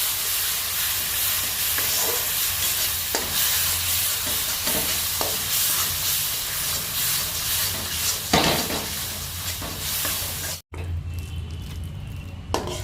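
Ginger, garlic and green chilli paste sizzles steadily in a pan for shahi malai paneer, a constant close frying hiss broken by occasional scrapes of a stirring spoon, with a brief cut near the end.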